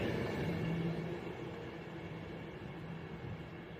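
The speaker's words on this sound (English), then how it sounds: "With 1 Alpha 15 from Liverpool to London Euston." Avanti passenger train running from Liverpool to London Euston passes on the West Coast Main Line at Stechford, a low steady rumble and rail noise at moderate distance that slowly fades.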